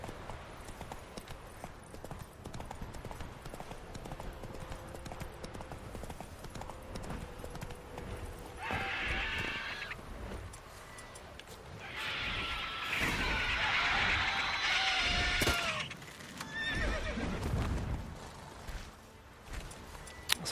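Hooves clatter in a rhythmic clip-clop from a horse in The Witcher 3 video game, with bursts of louder crashing and a brief whinny-like cry midway.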